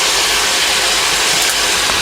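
Turmeric powder hits hot oil in a pan for a vegetarian khichuri, producing a loud, steady broadband sizzle that holds evenly throughout with no talking.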